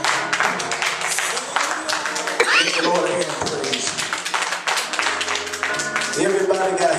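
A church congregation claps in praise, with sharp, busy hand claps running throughout while voices call out and talk over them.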